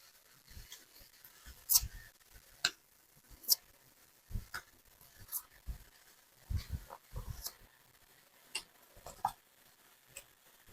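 Tarot cards laid out one at a time on a table, producing soft close taps, slides and flicks in an uneven sequence of short, quiet strokes with no talking.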